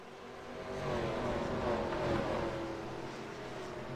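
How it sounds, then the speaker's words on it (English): Engine of a pace car at Darlington Raceway, heard from a distance as a steady, moderately quiet drone that rises and then eases off as the car passes, with no voices. "The pace car comes in."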